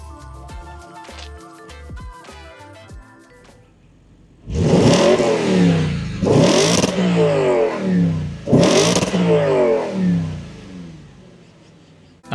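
A 2013 Audi RS5 in dynamic sport mode gives three sharp, loud exhaust revs after a ticking start, each a rising snarl that quickly falls away, close to the tailpipe.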